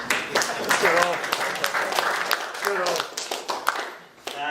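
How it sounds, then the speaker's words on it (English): A group at an umpires meeting claps, scattered and uneven hand claps mixed with talking voices, loosening toward the end. "clap John if you want."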